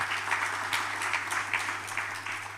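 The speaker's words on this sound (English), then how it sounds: "So let's clap for ourselves." A crowd at a public sector digital transformation awards ceremony claps steadily, a dense even wash of applause without pause.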